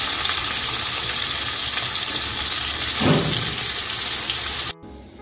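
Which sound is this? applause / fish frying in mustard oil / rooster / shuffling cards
fish frying in mustard oil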